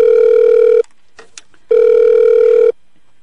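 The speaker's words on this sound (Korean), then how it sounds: "지금 울리는 전화 받아주세요" A telephone rings in two long electronic tones with a steady pitch, separated by a brief pause with faint clicks, then goes silent. No voices.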